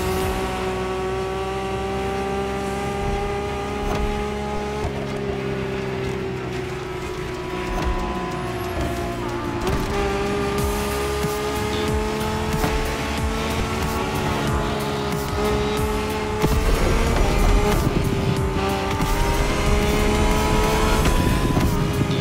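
Lamborghini cars racing in The Crew Motorfest game, with loud continuous engine roar, rising and falling revs, gear shifts and brief tire squeal, no talking.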